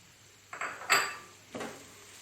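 A few short scraping clinks of a utensil against a bowl while stirring chopped parsley filling, three separate strokes in quick succession, close and fairly quiet.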